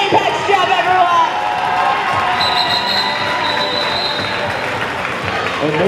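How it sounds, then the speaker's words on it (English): A crowd at a 2014 Boston roller derby bout applauds and cheers, a strong burst at the start settling into sustained clapping and scattered shouts, while an announcer's voice runs over the top. "A round of applause for Stevie Nixer's Apex jump, everyone."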